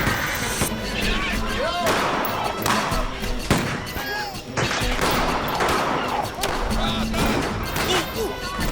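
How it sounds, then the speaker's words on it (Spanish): Gunfire crackles through a Latin American telenovela battle scene near a hacienda, with dense, rapid bursts of shots and thuds running nearly nonstop and loud, while voices shout over the din. "¡Disparos al norte, mi teniente!"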